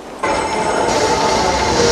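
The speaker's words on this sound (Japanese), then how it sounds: "加藤さんは毎朝電車で会社へ行きます" A commuter train rolls by, starting with a sudden steady roar after a brief quiet moment, with a faint high metallic ringing over a loud, continuous rumble of wheels on rails.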